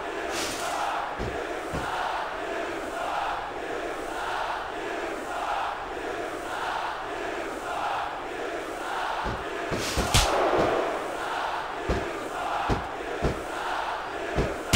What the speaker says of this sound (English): Man, this crowd is really swelling this guy's head.